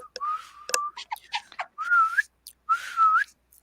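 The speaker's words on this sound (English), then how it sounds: "Stop whistling!" A person whistles short, chirpy phrases with rising and falling pitch, broken by brief pauses and small clicks and rustles nearby.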